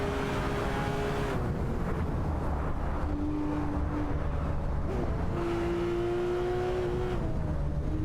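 Several Porsche 911 (991) GT2 RS race cars and an Audi R8 roar through a video game race, engines droning steadily with rising and falling pitch as they battle for position, loud and continuous throughout.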